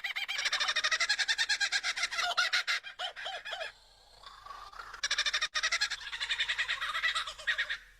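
A lyrebird mimics the calls of other bird species, a close, loud run of varied repeated whistles, trills and rapid chattering phrases, pausing briefly midway before resuming.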